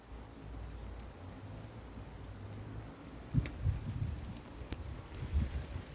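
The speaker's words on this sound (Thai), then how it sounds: "ฝนไล่แล้ว" Rain falling outdoors over a Thai vegetable garden plot, a soft continuous patter with low rumbling gusts and a few sharper drops or knocks later on, fairly quiet and with no talking.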